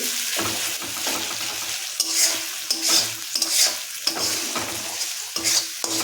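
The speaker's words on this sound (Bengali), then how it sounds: "এতে কাঁচা লঙ্কা দিয়ে দিলাম, টমেটো দিয়ে দিলাম, দিয়ে নাড়তে থাকলো" Green chili, tomato and ginger-garlic paste stir-frying in a pan for prawn malaikari, with steady sizzling and repeated near scrapes of a spatula in an uneven rhythm, no talking.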